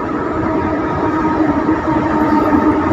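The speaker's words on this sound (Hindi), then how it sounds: "वो मेरी ट्रेन आ गई है" A Mumbai local train pulling into Belapur station, a loud, steady rumble of wheels and carriages rolling on the rails close by, with no voices over it.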